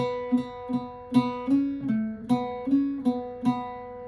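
An Irish bouzouki plays the second phrase of the tune Old Hag You Have Killed Me, about nine plucked notes in a lilting rhythm with ringing open drone strings, close and alone.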